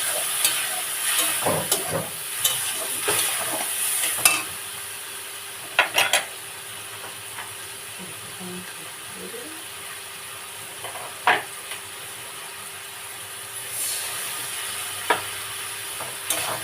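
Pointed gourd with turmeric, cumin and dry chili powder, cooked with prawns, sizzles steadily in a hot pan, with scattered scrapes and clinks of stirring over the continuous frying hiss.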